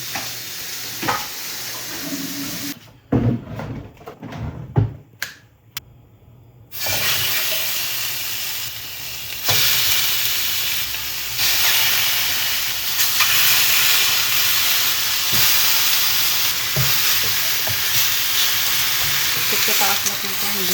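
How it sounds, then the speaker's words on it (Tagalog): Oxtail pan-fries until crispy, giving a loud, steady close-up sizzle that briefly drops and crackles in the middle, then returns as a continuous hissing fry with no talking. "i-pan fry natin tong ating oxtail para medyo maging crispy konti ang kanilang mga taba"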